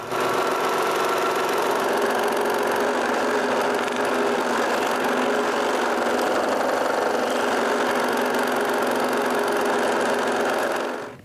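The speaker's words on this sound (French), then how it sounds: "Je finis la coupe de mes 2 roues là, avec le scie à chantourner." A scroll saw cuts out a pair of wooden wheels, giving a steady, loud motorized buzz with a fine rapid chatter that runs unbroken for about eleven seconds and stops abruptly at the end.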